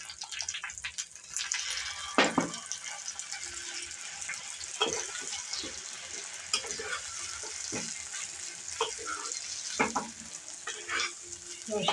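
Spices and mustard paste fry with mustard greens in a pan, giving a soft, continuous sizzle broken by occasional sharp clinks and scrapes of stirring, fairly quiet throughout.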